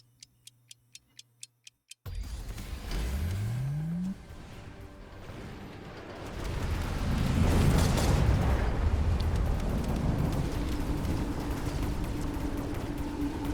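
Missiles exploding in a tower-defense video game: a few quick ticks open, then a sudden loud rumbling blast with a rising whoosh, followed by a sustained roar of further explosions that thickens and continues to the end.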